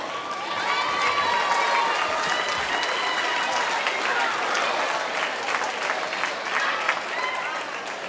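An audience claps at a high school basketball game in a gym, with sustained, dense applause and some cheering from a large crowd that carries on steadily throughout.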